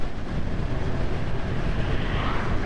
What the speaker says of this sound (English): I'm not throttle blipping, I'm just checking the engine braking.